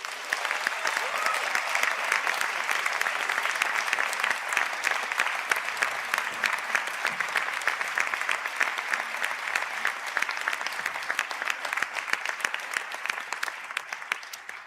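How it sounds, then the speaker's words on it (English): Steady, sustained applause from a large audience for graduates standing at a conferring ceremony, even dense clapping that holds at the same level throughout with no talk. "to please stand up for a round of applause"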